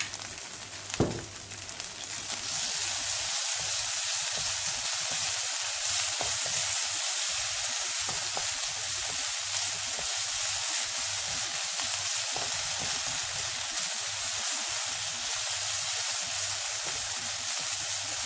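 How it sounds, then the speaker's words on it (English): Tomato paste frying in a hot pan, with a loud, continuous hiss and sizzle that holds steady for the whole stretch after a brief knock near the start, heard alone without any voice. "Cook it for a minute or so the rawness of the tomato paste goes away."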